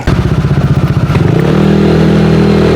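A motorcycle engine idles with a loud, choppy putter that smooths into a steadier, higher running hum, heard close up with no talking.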